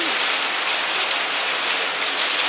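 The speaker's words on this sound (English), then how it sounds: "so happy for the rain. Like, so, so happy for the rain." Steady rain falls in a dense, even hiss of drops on surfaces, constant and close throughout with no talking.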